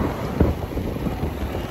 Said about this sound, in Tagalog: Malakas sa hangin ngayon.